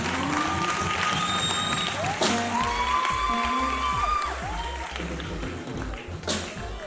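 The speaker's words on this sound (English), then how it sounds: "Let's give them a round of applause" A crowd at a primary school graduation ceremony applauds the school staff, scattered claps and faint cheers under a voice and tonal sounds that carry through.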